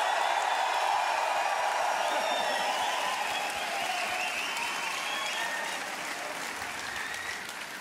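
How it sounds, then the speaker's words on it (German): A live audience at a speaker show opening in Bern bursts into loud, sustained applause with cheering and whoops, the clapping filling the hall and slowly easing off toward the end. "Ich will mal wissen, wie das tönt, wenn wir zusammen feiern und jubeln."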